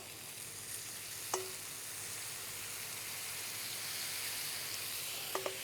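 Glazed chicken and pineapple kebabs being flipped and basted give off a steady, even sizzle, with a couple of light clicks from the turning and brushing.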